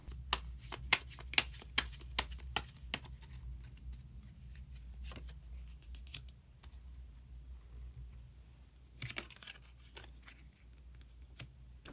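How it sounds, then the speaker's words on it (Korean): Tarot cards shuffled and drawn by hand: quick, crisp riffling flicks up close at the start, then quieter sliding and tapping of cards with a few faint snaps later on, and no talking. "카드 한 장을 더 뽑고 이야기 계속 나누도록 할게요"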